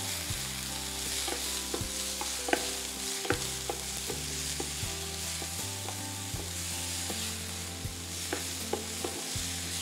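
Bite-sized boneless chicken pieces and broccoli stir-frying in a pan, a steady close sizzle with regular light knocks and scrapes from a spatula stirring throughout.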